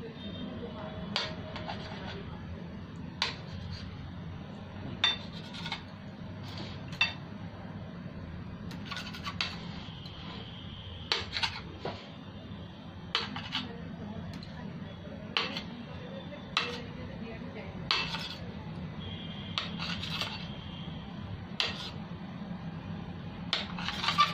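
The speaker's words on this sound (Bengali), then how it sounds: "এবার আমি কেটে নিচ্ছি ছোট ছোট করে" A knife cuts boiled eggs into small pieces, making sharp, irregular taps on a board throughout over a low steady hum, with someone talking now and then.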